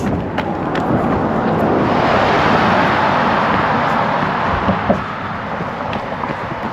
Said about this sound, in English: That car was going pretty quick.